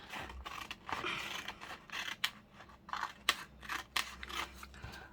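Scissors snip through fabric for a journal embellishment in a quiet room, a rapid series of close, crisp cutting clicks with a faint mechanical creak.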